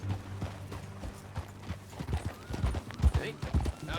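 Horse hooves clip-clop in Red Dead Redemption 2, a steady run of close, sharp strikes that grows louder toward the end, mixed with background game sound and a low musical hum.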